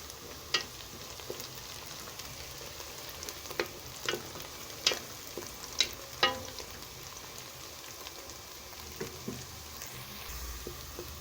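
Onions fry in a pan, browning for fish sayadieh rice, with a soft steady sizzle and scattered clicks and scrapes of stirring, faint and close, with no voices.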